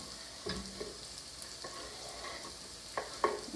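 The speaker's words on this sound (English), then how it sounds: "So now we're going to saute the onion with the parsley" Onion, parsley and garlic sautéing in warm olive oil, a soft steady sizzle broken by a few spoon stirs and light clinks, close but fairly quiet, with no talking.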